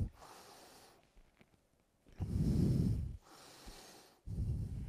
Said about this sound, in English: start with just deep breathing in and out through your nose